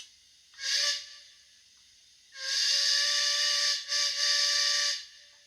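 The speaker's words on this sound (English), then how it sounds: "Three is a whistle." A Rapido Trains Port of Par Bagnall model steam locomotive whistle sounds, first a short toot, then a long blast broken by a brief dip, shrill and close over quiet hiss.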